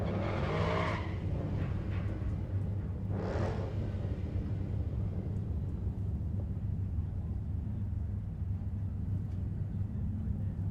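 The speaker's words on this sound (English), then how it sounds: "KJ Jones and John Gatliff going to line up side by side in a battle of the late model 5-liter Mustangs" Late-model 5-liter Mustangs rolling up side by side at a drag race, a constant loud engine rumble with a couple of brief tire-squeal bursts early on, heard from a distance.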